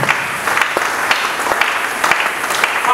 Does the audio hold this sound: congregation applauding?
yes